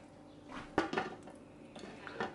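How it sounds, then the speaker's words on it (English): A lid clanks back onto a pot of simmering Vietnamese pho. It gives one sharp metallic clink followed by a couple of smaller rattles, close and fairly quiet. "now put the lid back on"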